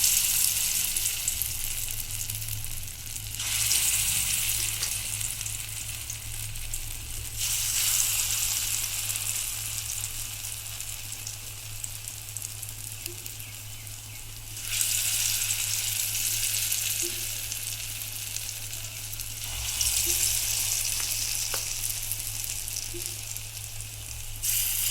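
Food sizzles steadily in hot oil in a pan over a medium gas flame, a loud continuous crackle that swells and dips in waves, with a low steady hum beneath.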